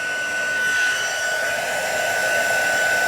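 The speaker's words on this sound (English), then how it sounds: "It can burn your paper, so you wanna continuously move the heat gun." A heat gun blows steadily over alcohol ink on paper, a loud, continuous close-up whoosh of hot air with a constant high whine and no pauses, running alone throughout.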